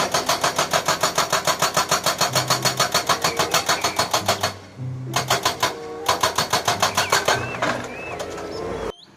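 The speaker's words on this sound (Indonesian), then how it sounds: "Wih, mobil Hammer ekskavator teman-teman." A hammer excavator's hydraulic breaker pounds in a fast, steady run of sharp metallic blows. It pauses briefly, then resumes for a second burst before trailing off.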